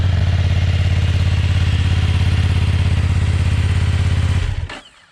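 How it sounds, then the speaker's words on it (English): A 2020 BMW F 900 R motorcycle engine idles through its stock muffler with a deep, steady, throbbing exhaust note close up, then cuts off and fades to near silence near the end. "this is a stock muffler and it already sounds really nice."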